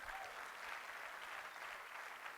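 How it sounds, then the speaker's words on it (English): A crowd applauds steadily from start to finish, a dense, even wash of clapping heard at a distance and fairly faint. "Give him a round of applause."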